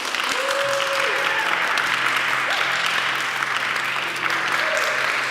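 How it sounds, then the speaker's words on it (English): Audience applause at a music showcase, a steady wash of many hands clapping continuously, with a few faint voices and whoops rising through it. "I want to give one big round of applause to everyone"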